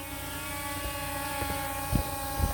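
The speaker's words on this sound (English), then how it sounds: "I'm going to hit the takeoff" A Holy Stone HS360S drone whirs steadily as its propellers spin up for takeoff, a continuous tonal buzz with a few soft thumps near the end.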